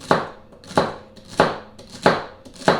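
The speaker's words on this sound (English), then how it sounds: "now I'm going to chop up all my vegetables, and the celery I'm going to start with, and I do it real fine" A knife chops celery finely on a cutting board for an Asian cabbage salad, five sharp, evenly spaced strokes about half a second apart, close and clear with no talk.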